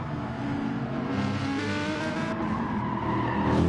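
A BMW race car understeering on a circuit in touring car racing, with a loud, steady engine drone and tire scrub close by and no voices.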